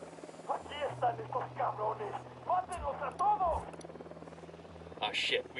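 A helicopter approaches in a military shooter video game, a low steady rotor drone and hum running under radio-style voice chatter throughout.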